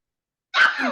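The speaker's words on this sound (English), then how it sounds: "I said I had to sneeze." A single short sneeze bursts out after half a second of silence, close and fairly loud.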